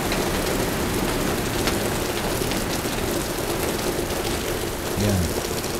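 Downpour hammers a roof beside a building in a constant dense hiss, with a faint low murmur briefly rising near the end.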